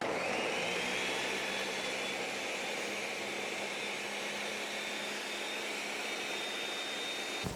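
Pineapple whirring in a blender: a loud, continuous high motor whine that holds steady for several seconds and then cuts off abruptly at the end.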